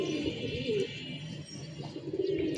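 Pigeons on a rooftop cooing softly and continuously close by, with low throaty murmurs under a faint background hiss.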